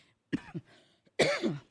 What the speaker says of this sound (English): Oops, had to cough there a second